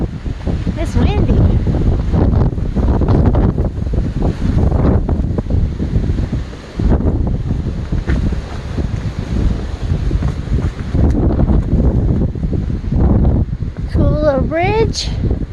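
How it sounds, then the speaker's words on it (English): Strong wind buffets the microphone on an exposed mountain trail near the summit of Mt. Guadalupe, a loud continuous roar with gusts, and a voice speaks briefly over it. "It's windy."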